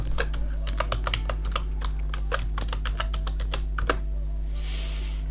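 A password being typed on a computer keyboard during a Linux data recovery setup: a quick run of sharp, separate key clicks at close range over a steady low hum, ending in a short pause and a final soft rustle.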